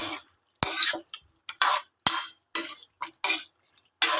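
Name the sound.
stirring pork humba with pepper and bay leaf in pot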